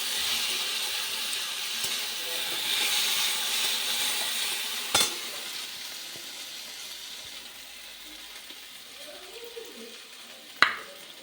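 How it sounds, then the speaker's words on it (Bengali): Potatoes frying in a pan give a soft steady sizzle that fades over time, with two sharp clanks of a utensil. "তার জন্য আলু ভাজছিলাম"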